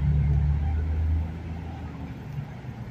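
Morning traffic on the Las Vegas Strip, narrowed to one lane, rumbles past as a steady low engine drone that eases slightly after the first second, with no voices over it.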